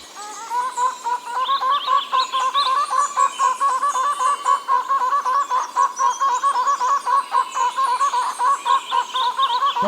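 A pair of prong-billed barbets in a wet Costa Rican cloud forest call in a duet, a rapid, continuous run of rhythmic hooting notes, close and clear, lasting throughout without talk.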